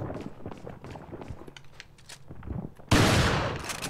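Gunfire from a pistol in a shooting video game, with several scattered shots and footstep-like clatter early on, then a loud sustained noisy burst over the last second.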